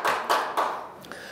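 A few scattered claps from a small audience at a lecture hall talk, three or four soft hand claps fading out quickly, with no voices over them.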